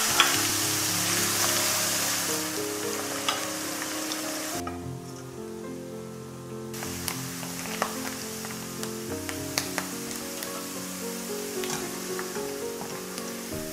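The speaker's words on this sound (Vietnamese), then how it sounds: "Rồi nấm mình cũng chiên nâu vàng." Mushrooms fry in hot oil in a pan until golden brown, giving a steady, close sizzle with scattered pops and crackles that runs throughout, briefly dropping lower partway through before picking back up.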